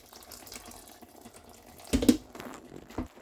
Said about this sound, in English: Then you add water to it a little bit because your egusi will be needing more water